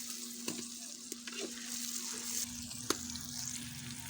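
Onions frying in a pan until browning, outdoors in a village kitchen, a quiet steady sizzle with a few sharp clicks of a spoon against the pan and a low hum beneath.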